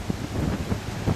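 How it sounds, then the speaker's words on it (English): Gusty wind buffets the microphone beside a lake during a spring bass fishing outing, a low rumbling roar with irregular bursts, loud and close with no other sound standing out. "It's hard to hear me through this wind."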